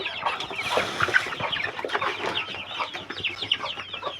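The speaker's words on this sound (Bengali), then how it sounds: "দেখুন খাবার জন্য কিরকম করতেছে ওরা।" Hungry chickens on a farm cluck busily and continuously while waiting to be fed, a dense flock chatter heard close by with no talking.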